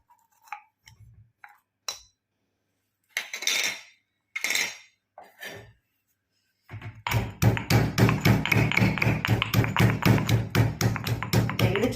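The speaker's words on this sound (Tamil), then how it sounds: "சின்ன வெங்காயம் ஒரு அஞ்சு பூண்டு தோல் உரிச்சிருக்கோம் அதை ரெண்டையும் போட்டு இப்போ இடிக்க போகிறோம்" Shallots and garlic with pepper and cumin being pounded, a few scattered knocks and clinks first, then a fast, steady run of close, sharp rhythmic thuds of a pestle in a mortar.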